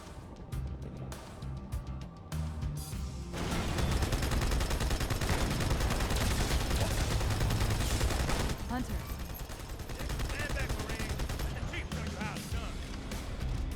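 Chain gun fire in Halo 2, a dense sustained burst of rapid shots that swells loud in the middle and continues under heavy battle noise, with a voice talking at the start.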